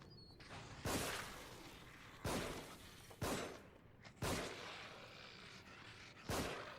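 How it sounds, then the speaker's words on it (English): Gunshots in the horror video game The Evil Within, five sharp broadband blasts spaced about a second apart, each with a short decaying tail over a low, murky background. "The second shot that I shot there was literally directly on his head, and it shot the mannequin behind him"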